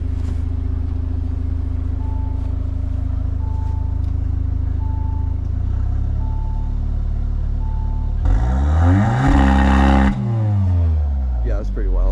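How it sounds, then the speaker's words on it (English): A 2024 Audi S3 idles with a deep rumble, then its engine sweeps up sharply on launch control into a loud, rising rev that peaks and falls away, with brief voices nearby. "Let's hear the launch control."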